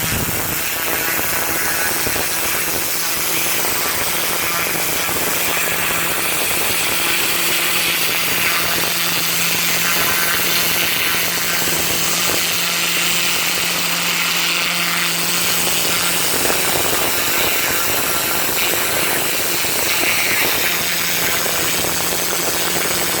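A petrol pressure washer at about half throttle, roughly 2,500 psi, cleans block paving with a steady, loud engine drone and a hissing water spray that stay constant throughout.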